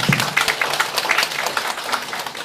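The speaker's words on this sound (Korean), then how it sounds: "박수 한번 부탁합니다" An audience applauding at a neighborhood New Year's gathering, a dense burst of many hands clapping at once, fairly close and loud throughout.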